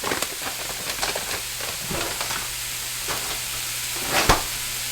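Plant-based ground beef sizzles and crackles steadily in a preheated pan, a continuous close frying hiss with a few sharper pops and stirring scrapes, no talking.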